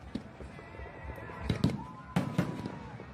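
Fireworks cakes go off on the ground as a poorly made shell fails, giving several sharp bangs and crackling bursts at moderate distance, with two clusters of louder reports standing out over a steady background hiss.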